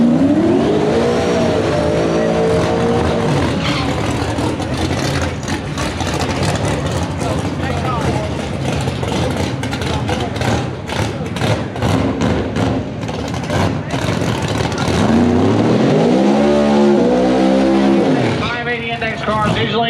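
Turbocharged Fox body drag car with a 110mm turbo at a drag race, loud continuous engine roar throughout with a rising rev near the end, under crowd and announcer chatter.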